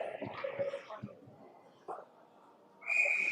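A referee's whistle shrills at a youth U13 ice hockey game, a sharp blast near the end that follows arena commentary and rink noise.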